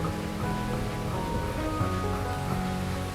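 Rain patters steadily on a surface nearby while the sun shines, a soft continuous shower with a faint tonal hum underneath and no talking.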